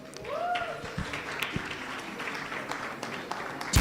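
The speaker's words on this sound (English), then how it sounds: "Let's clap hands for them as they come." Audience clapping at a welcome event for Miss South Africa 2022 in Polokwane, mixed with crowd noise and voices, a steady moderate patter of hands lasting a few seconds.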